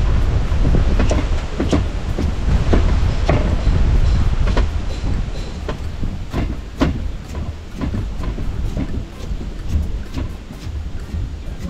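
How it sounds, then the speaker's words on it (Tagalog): Strong wind roars and buffets continuously, loud and close, with scattered knocks and clatter rising above the low rumble. "Lakas ng hangin."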